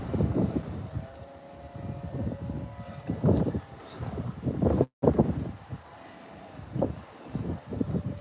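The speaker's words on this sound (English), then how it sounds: "There's quite a bit of wind right now" Strong wind on a Nova Scotia beach, heard from inside a parked Jeep as a low, gusty rumble and buffeting against the microphone that swells and fades in irregular surges.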